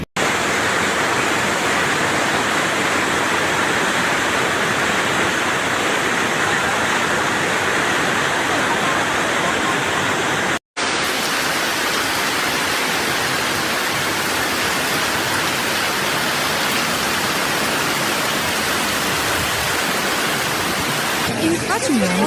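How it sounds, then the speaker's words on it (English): Floodwater rushes through an Indonesian coastal town as a loud, constant roar like a torrent, dropping out for a moment midway and then resuming with the same force. "silence has been replaced by the sound of rushing water, splintering wood, and distant cries for help"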